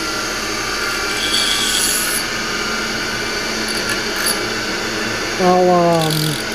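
A file rasps steadily against a small metal part from a 1966 Ford Galaxie 500 convertible under restoration, a close, continuous scraping with a brief squeak near the end.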